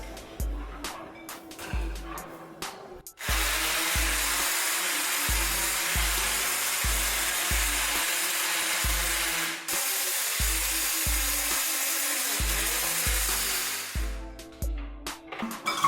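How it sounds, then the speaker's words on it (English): A handheld immersion blender whips no-bake strawberry cheesecake filling with vanilla and lemon extract, a loud, steady, close motor whir running for about eleven seconds between quieter moments with a low rhythmic background. "Okay, we can use a hand blender for this."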